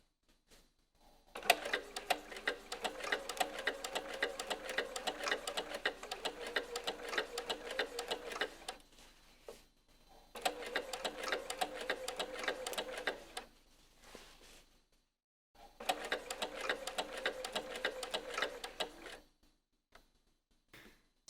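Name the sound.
sewing machine basting stitch on jeans fly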